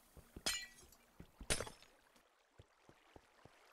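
Glass blocks shattering in Minecraft, two sharp bright breaks about a second apart, each with a brief tinkling tail, followed by soft scattered clicks and light footstep-like taps.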